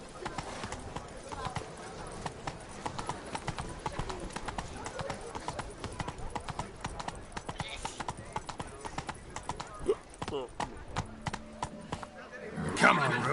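Roach the horse's hooves clip-clop steadily in The Witcher 3 video game, a quick continuous rhythm running throughout, mixed with game music and voices talking.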